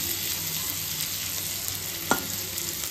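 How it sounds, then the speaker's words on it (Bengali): Potato and bitter gourd frying in a pan, a steady soft sizzle with a few light stirring scrapes and one sharp clink, close and without talk. "এর সাথে একটু আলু উচ্ছে ভাজছি"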